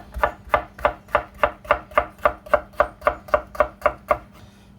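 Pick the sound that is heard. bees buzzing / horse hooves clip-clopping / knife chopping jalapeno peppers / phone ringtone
knife chopping jalapeno peppers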